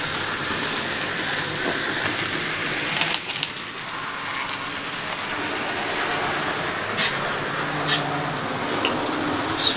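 A Micro-Trains Christmas model train runs along its track, giving a steady, fairly close whirring rumble with faint clicks and a few sharp ticks near the end.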